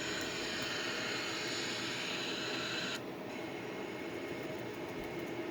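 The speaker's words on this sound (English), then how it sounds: "So you engage the thrust reverses like this." Boeing 787 thrust reversers engage in a flight simulator, producing a loud, steady jet engine roar that holds throughout, with a sudden shift in its hiss about halfway through.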